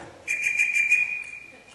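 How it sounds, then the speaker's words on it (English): A steady, piercing whistle tone held for over a second, with a slight pulsing flutter early on before it fades out. "It's a whistle."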